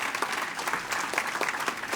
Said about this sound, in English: You got a round of applause.